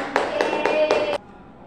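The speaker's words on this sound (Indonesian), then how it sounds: "kita beri tepuk tangan untuk Uswatun" Classroom of students clapping together for a classmate, four sharp rhythmic group claps in a quick pattern, close and loud, then abrupt quiet.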